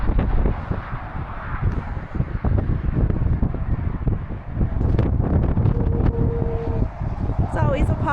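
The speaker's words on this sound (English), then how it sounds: "we just stopped at Lac Des Arcs and it's so windy" Strong wind gusting at Lac Des Arcs, Alberta, buffeting the microphone with a constant low roar, while people talk over it throughout.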